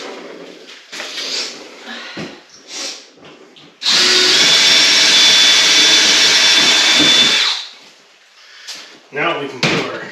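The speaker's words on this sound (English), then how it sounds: "I want to drill them because I don't want to split the board behind it." Power drill boring pilot holes into a wooden board for a Blackstone griddle hood build, one loud sustained whirring burst of about four seconds, with people talking before and after.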